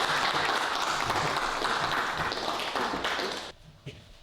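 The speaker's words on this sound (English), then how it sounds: "I'll give you a clap" An audience at an evening poetry reading claps for the poet Noelle as she comes to the stage, a full, steady round of applause that cuts off abruptly near the end, leaving a couple of stray claps.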